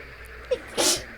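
A single short sneeze bursts out near the microphone at a rainy outdoor fishing spot for crucian carp, standing alone over a faint background hiss.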